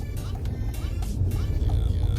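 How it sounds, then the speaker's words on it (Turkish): A manual-transmission car pulls away onto the road, its engine giving a steady low drone and rumble that holds close and even throughout. "Evet şu anda yola çıkıyorum."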